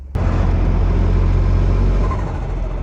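A Caterham Seven 170R's small engine roars into a loud, steady rev from a close vantage, a deep buzzy drone that holds for a couple of seconds before easing off slightly.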